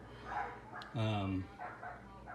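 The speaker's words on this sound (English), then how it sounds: "I don't know what the neighbors are doing with the dogs over there" Neighbouring dogs bark once or twice in a short burst at mid-distance, rising briefly over someone talking nearby while he installs underglow lighting on a Nissan 350Z drift car.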